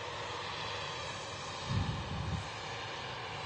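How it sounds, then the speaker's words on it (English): An airliner touching down on runway 23 right at Manchester Airport, a steady broadband engine roar with a brief louder thump of contact partway through, heard from a distance with wind noise and no talking. "Dutch Pride touching down here at Manchester."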